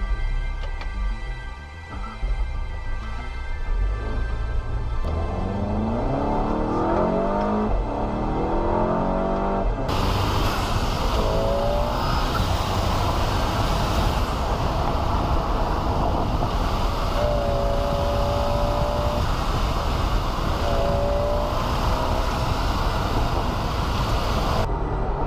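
VW Golf GTI hot hatchback with manual gearbox, Sport Mode and traction control off, accelerating hard: a loud, steady engine roar with rising gear pulls, close and continuous throughout, no talking.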